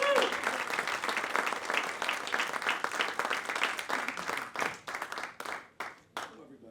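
An audience at a storytelling performance breaks into a sustained round of applause, dense clapping that thins out toward the end.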